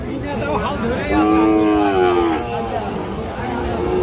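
Cattle low loudly and fairly close at a Sahiwal cattle market, one drawn-out moo rising and falling over a steady crowd murmur of market chatter.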